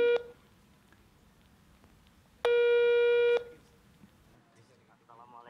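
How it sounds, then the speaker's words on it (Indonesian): A phone line rings during a call out to a television viewer, with a short electronic tone near the start and then one long, loud ringing tone, followed by quiet line noise. "Waktunya kita menghubungi Anda. Oke, kita coba hubungi yang bersangkutan."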